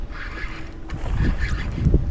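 Wind gusts across the microphone on a lake while bass fishing from a boat, a steady low rumble that swells louder in the second half, with no talking.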